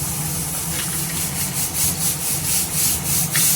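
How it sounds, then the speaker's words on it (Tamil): Pieces of egg Manchurian fry in hot oil, giving a steady, fairly loud sizzling hiss that swells slightly in rhythm, with no voices. "எண்ணெய் சூடாயிடுச்சு இப்போ நம்ம இதை பொறிச்சு எடுத்துக்கலாம்"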